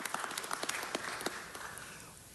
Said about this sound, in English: deserves a round of applause for just doing that